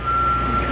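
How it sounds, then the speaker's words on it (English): Reversal beeps from a truck at a convention venue being set up for an event, a steady tone repeating under busy outdoor noise, moderately close. "There's a lot of beeping"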